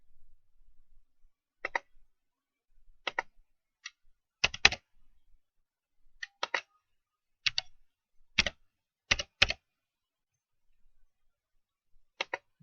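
Sparse keystrokes on a computer keyboard as an email address is entered, single clicks and quick pairs spaced by pauses, close and fairly quiet against a silent background.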